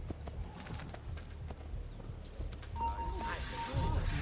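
Rhythmic clip-clop of horse hooves at a walking pace, close by, with game-like ambient sound and a brief tone later on, in Assassin's Creed II.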